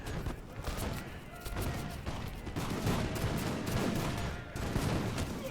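Musket volley fire in an Imperial Splendour battle between Russian line infantry and Grenadiers: dense, continuous crackling volleys with overlapping shots, steady and loud throughout, with distant rumbling under the gunfire.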